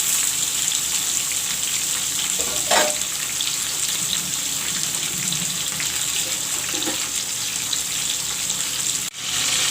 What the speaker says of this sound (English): Friends, I am putting the cauliflower and potato to fry.